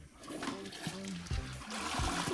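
A toilet flushing plays back from a video, a rushing, gurgling stream of water with splashy bursts, heard under someone talking.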